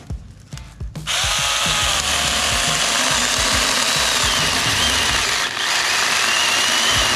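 A mini electric chainsaw cuts into a black walnut tree outdoors, starting after a second of faint knocking and then running as a loud, steady, continuous high whine with slight dips in pitch as it bogs into the wood.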